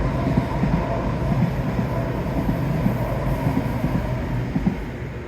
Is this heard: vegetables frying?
no